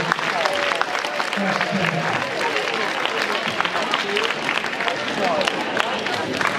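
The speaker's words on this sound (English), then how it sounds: "Let's have a round of applause for" An audience at an eighth-grade school orientation gives a round of applause, continuous clapping blended with crowd murmur and scattered voices, fairly loud and steady for the whole stretch.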